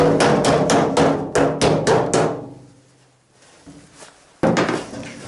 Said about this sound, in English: it's just a plastic hammer. Makes less noise than the metal one.